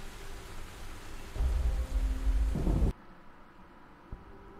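Thunderstorm in The Perils of Man video game: steady rain hiss swells into a loud rolling thunder rumble that cuts off abruptly, leaving a quieter backdrop with a faint tap.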